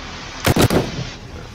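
A quick burst of three sharp gunshots in the zombie survival game 7 Days to Die during horde night, loud and close, followed by fading reverberation.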